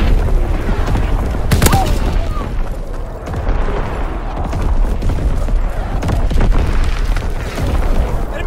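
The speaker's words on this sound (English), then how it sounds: "Incoming enemy artillery!" Enemy artillery shells explode in a WW2 video game, a dense, continuous rumble of deep booms with a sharp blast near the start and steady loud thunder throughout.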